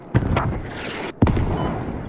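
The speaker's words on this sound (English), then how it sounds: "In the middle of mortar fire" Mortar fire in a military video game set in an Al Basrah invasion: two heavy booming impacts about a second apart, the second followed by a sustained rumbling tail, loud and fairly close.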